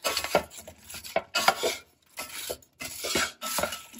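Apples and cinnamon are stirred together in a crockpot, with a series of close, rough scraping strokes separated by brief pauses and no talk.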